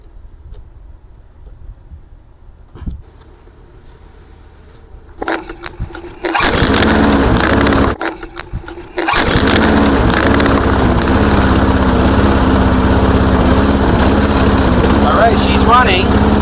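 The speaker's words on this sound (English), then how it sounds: "Running, but as you can hear, it's basically idling" A lawnmower engine after fuel priming and with the air filter refitted: quiet handling noises, then a pull-start that catches, sputters briefly, and settles into a loud, steady idle close by.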